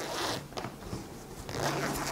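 A zipper on a fabric handbag is handled and pulled in short bursts, raspy zips with brief pauses between them, close by, with no talk.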